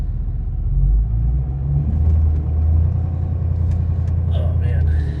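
Duramax diesel pickup truck hauling an RV trailer, its engine a steady low rumble and drone close by, with occasional faint higher-pitched squeaks over the top.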